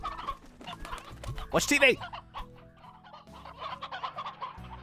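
Chickens cluck and squawk inside a coop in the Slime Rancher video game, including one loud, sharp burst of cackling, with a person talking over the top and background game sounds throughout.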